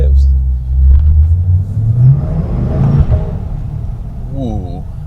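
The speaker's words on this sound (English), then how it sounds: "You can just give them some revs." A Chevrolet C8 Corvette engine revs up and down several times in neutral at close range, a deep rumbling roar rising and falling.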